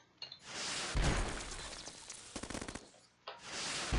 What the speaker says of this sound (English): I'm going to fire a heavy missile this time.